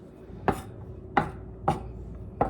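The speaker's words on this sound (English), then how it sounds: "you want to get the onions in a nice pile like this, and then you just want to choppity-chop them" Onions chopped with a knife on a board for a summer corn salad, four crisp, separate thuds spaced unevenly at close range, no talking.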